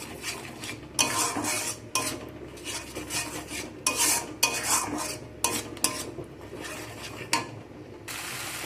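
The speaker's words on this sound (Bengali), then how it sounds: "দিয়ে আবার সব কিছু একসাথে ভালো করে কষিয়ে নিতে হবে" Mustard-poppy seed paste and tomato fried and stirred in a pan: close, loud bursts of spatula scraping against the metal pan come in quick repeated strokes with short pauses between, over a faint sizzle and no talking.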